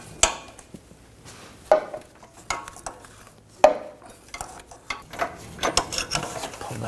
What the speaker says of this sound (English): I'm going to use a O2 sensor socket. It's a 22mm socket with a slice in it to get over the wire.